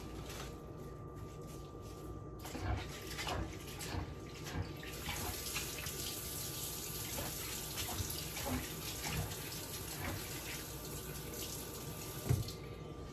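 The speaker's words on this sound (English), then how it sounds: "I'm just gonna put them in this bath, let them soak for a few minutes, put some salt in them" Water runs gently from a kitchen tap into a sink where vegetables soak in salted water and are rubbed by hand, a quiet continuous splashing with a few soft knocks.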